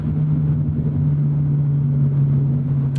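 A Toyota GR86 engine holds a loud, steady droning rev near its redline, a strained, buzzy tone with no talking.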